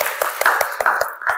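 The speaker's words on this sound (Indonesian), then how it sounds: "Ya, tepuk tangan buat kita semua." A small group claps in a steady, brisk rhythm at a positive-discipline teachers' seminar, the claps close and even for a short burst.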